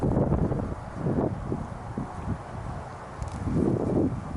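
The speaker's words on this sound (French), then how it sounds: "Il y a du vent." Steady wind buffets an outdoor microphone during a fishing trip, a continuous low roar that swells in gusts near the start and again toward the end, with faint rustling and no voices.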